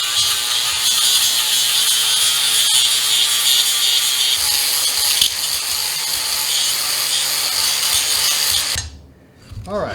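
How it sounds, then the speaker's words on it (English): A power tool sands down a steel weld, a loud, continuous high-pitched grinding whine held close for about nine seconds before winding down abruptly. "I'm going to go sand it and feather it down really nice"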